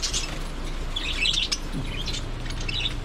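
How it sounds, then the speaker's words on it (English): Cockatiels in a pet store give repeated high, bright chirps and whistles over a low background hum, several calls overlapping at close range. "Cockatiels."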